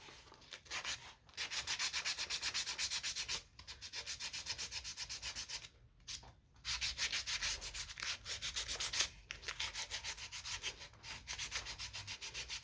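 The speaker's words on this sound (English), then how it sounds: "Kind of round it over just a tad with sandpaper." Sandpaper rubbing over a carved wooden eagle, steady raspy back-and-forth strokes in bursts with brief pauses, close and faint, no talking.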